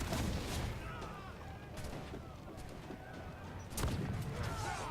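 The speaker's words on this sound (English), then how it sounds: "you can actually hit them all just from the swivel gun, which I looked out and hit a barrel, so yeah, I end up doing that here" Swivel gun shots ringing out at floating barrels while sailing in Assassin's Creed 4, a few sharp blasts over steady sea and ship ambience, the loudest near the end, with no talk.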